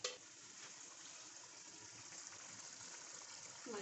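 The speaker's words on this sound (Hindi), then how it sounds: "तो अब मैं इनका पानी उतारती हूँ।" Starchy water is poured off cooked rice for dum biryani, a faint, steady gush of draining liquid heard alone without talk.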